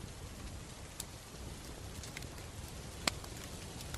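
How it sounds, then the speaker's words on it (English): Steady rain falls outside a small shelter, a faint, even hiss of patter with a few sharper drops striking nearby surfaces, no voices. "Talk about rain, it's not just a simple drizzle."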